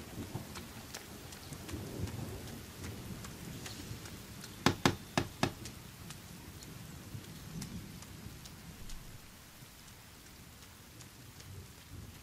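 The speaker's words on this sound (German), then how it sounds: "jetzt fängt es noch an zu regnen" Steady rain falls in the survival game The Forest, a dense hiss of drops on surfaces with a few sharp louder taps near the middle, continuous and fairly close throughout with no voices.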